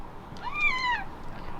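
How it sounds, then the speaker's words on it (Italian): A domestic cat gives a single soft, rising-and-falling meow at close range, faint against quiet room noise. "Il gatto."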